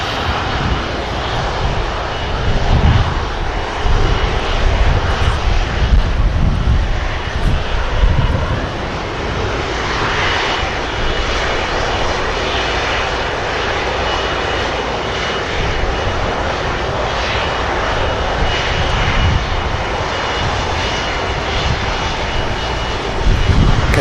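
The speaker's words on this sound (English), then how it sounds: "now slowly taxiing on to 2-3 left" An airliner slowly taxiing at Manchester Airport, its jet engines producing a loud, continuous roar and whine that holds steady throughout with no speech over it.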